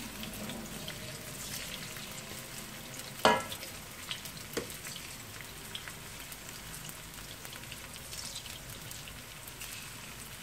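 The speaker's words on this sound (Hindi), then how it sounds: "बट मैं हल्के ही ऑयल में इसको फ्राई कर रही हूँ" Chicken frying in a little oil, crackling and spitting continuously up close, with one sharp knock of a utensil against the pan near the start.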